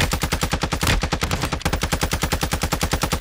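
Rapid automatic gunfire in the video game Warzone 2, a loud, steady rattle of evenly spaced shots that barely pauses, close and dominant.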